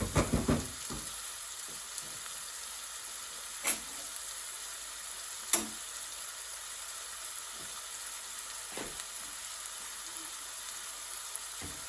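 Onion caramelising with salt in a frying pan for a 90s BIR-style precooked chicken curry, a steady close sizzle and hiss with a few sharp utensil clinks and scrapes.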